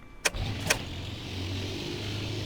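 Piper Warrior II piston engine starting in the X-Plane 11 flight simulator, two sharp cranking bursts followed by a low, steady idle hum, fairly quiet and alone.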